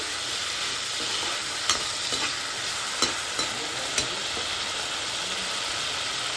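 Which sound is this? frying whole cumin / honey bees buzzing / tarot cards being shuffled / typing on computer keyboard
frying whole cumin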